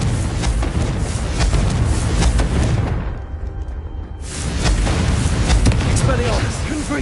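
A Confringo blasting spell in a Harry Potter video game bursts with loud, dense booming over continuous battle noise, briefly dropping away before the rumble returns.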